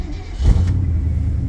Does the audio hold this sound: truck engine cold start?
yes